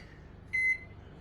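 A kitchen microwave oven gives one short, clear electronic beep close by, with a low steady running hum beneath it.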